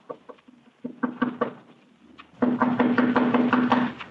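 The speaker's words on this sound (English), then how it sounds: "I raised my hand to knock on what had been once my own living room door" Light knocks tap on a living room door in an old radio drama, a short uneven series of raps, followed by a steadier run of louder rhythmic taps over a low humming tone.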